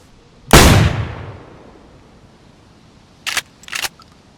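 A gun is fired into the air in the DayZ survival video game: one loud, close blast with a long fading tail, followed a few seconds later by two short, sharper cracks.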